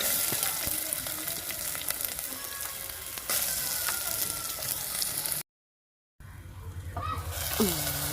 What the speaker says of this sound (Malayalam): വെളിച്ചെണ്ണ നല്ലോണം ചൂടായി വരുമ്പോൾ നമ്മൾ അതിലേക്ക് ഉള്ളി അരിഞ്ഞത് ഇട്ട് കൊടുക്കണം.